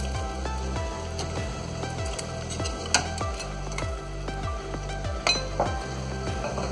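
A metal lid clinks down onto a pot of crab and shrimp broth simmering over medium heat, with a couple of sharp clanks over a steady low bubbling and kitchen hum.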